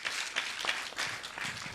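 Audience at the 40th Botswana Sport Awards applauding as Mr. Baledi comes to the stage, a brief, fairly faint wash of clapping from a crowd.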